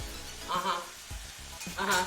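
Crackling sizzle of cabbage frying in a pan, rising in short bursts with a few soft clinks, fairly quiet and close, no voices.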